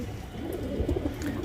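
Pigeons of the same breed cooing softly nearby, a couple of low, throaty coos over a faint background hum.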